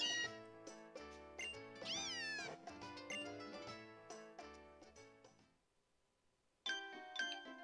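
Cat Pokémon cries and meowing chime in Pokémon Ultra Sun, a busy run of bright, bell-like electronic tones over plucked game music that fades out, then a fresh burst of tones returns.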